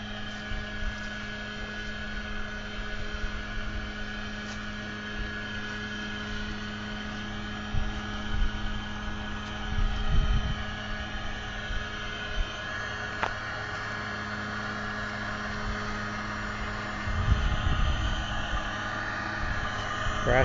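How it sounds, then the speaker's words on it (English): Aeration blowers run at a small HOA wastewater treatment plant, giving a steady, droning mechanical hum with constant tonal whine heard from nearby outdoors, alongside occasional low bumps and rustles. "You can hear the blowers running."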